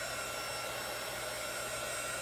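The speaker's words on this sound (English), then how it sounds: "Now this is just a heat tool." A steady, loud blowing roar of a hot-air tool runs without a break, a constant motor-driven whoosh with no voices.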